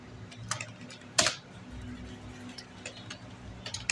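Typing on a computer keyboard while filling in a Mail Merge list in MS Word 2021, with scattered light key clicks and one louder sharp clack, close and moderately quiet against a faint background.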